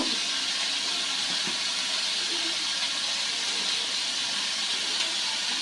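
Onion paste and dried chillies with a little salt fry in a pan, giving off a steady, moderately loud sizzling hiss that continues evenly throughout, with no talking.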